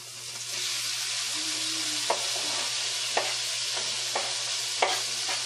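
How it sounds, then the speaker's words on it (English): Garlic and roasted red peppers sauté in a skillet with a steady, close sizzle and a few sharp scrapes and clinks of a utensil stirring, no voices. "We got our garlic sauteed up here in the skillet."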